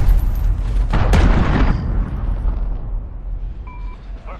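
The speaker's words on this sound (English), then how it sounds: "Allied cruise missile away." A cruise missile blast in the Modern Warfare video game hits as one loud booming explosion about a second in. A heavy rumbling tail fades over the following seconds, and a couple of faint electronic tones follow near the end.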